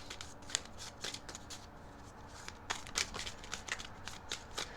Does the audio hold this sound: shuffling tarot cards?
yes